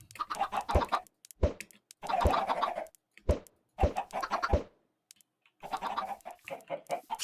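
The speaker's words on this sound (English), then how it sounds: "I might as well go over to the chickens and feed them." Chickens cluck in bursts in Minecraft, their clipped, choppy calls loud and close, separated by short silences.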